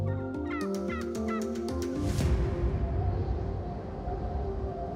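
Wild turkey gobbles in a rapid, rattling burst during the first two seconds, then give way to dense, steady outdoor noise, with the calls standing out clearly and fairly close.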